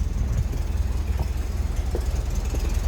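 A 1967 MG MGB GT engine idling with a steady, smooth low rumble, even and unbroken throughout with no voices over it.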